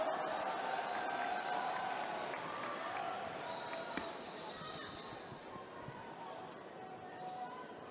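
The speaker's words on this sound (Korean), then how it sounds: "여러분 다시 한번 큰 박수로 수락 연설을 청해 들어보겠습니다." An audience at a Korean political rally claps for an acceptance speech, a dense, sustained roll of applause that slowly eases, with an announcer talking over it.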